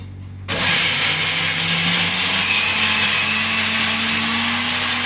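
An electric mixer grinder in a home kitchen, used while making momos, switches on abruptly and runs with a loud, steady whirring whine that slowly rises in pitch.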